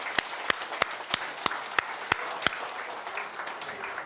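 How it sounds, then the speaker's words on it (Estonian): An audience applauds with a few loud, distinct claps standing out rhythmically over a softer bed of clapping, fairly close and steady, tapering slightly toward the end. "teeme suure aplausi."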